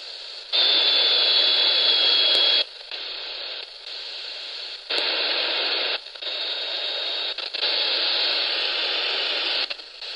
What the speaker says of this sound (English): Digital noise.